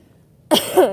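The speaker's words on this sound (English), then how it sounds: "dying of coughing" A single harsh cough bursts out abruptly after a moment of near silence, close and loud.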